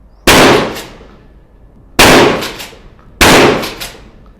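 A Hatsan Escort Aimguard shotgun fires three loud, sharp blasts of buckshot at about fifteen metres on an outdoor range, evenly spaced with each boom decaying into a short echo.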